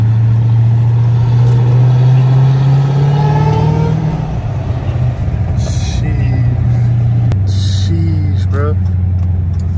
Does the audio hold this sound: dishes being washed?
no